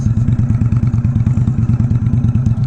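An Indian Scout Bobber motorcycle engine throbs loud and close in a steady, rapid pulsing rhythm while riding over bumps, with faint clatter over the continuous rumble.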